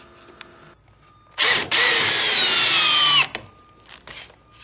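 A power drill drives a 6-inch threaded screw into a wooden rafter at an angled top-plate connection, one loud steady whirring burst of about two seconds with a brief pause at the start, set between quiet moments.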